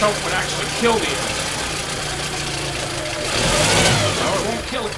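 A choked Yamaha 9.9 four-stroke outboard runs steadily at a rough idle, with a broadband engine drone that swells a little louder near the end. A voice talks over it.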